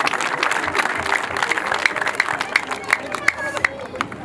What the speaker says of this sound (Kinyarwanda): Tuguhaye amashi menshi n'impundu